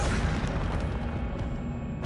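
Incendio fire spell cast in the Hogwarts Legacy game, a dense low whooshing burst of flame that roars steadily for about two seconds, loud and close with no talk.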